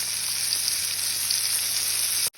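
Chopped onion sizzles steadily in a frying pan alongside pieces of fish, a dense, even hiss that stays loud and close for about two seconds before cutting off abruptly.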